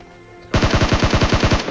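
An M416 rifle in a video game fires a rapid sustained burst of about a dozen evenly spaced, loud, punchy shots after a brief quiet lead-in, with no talking.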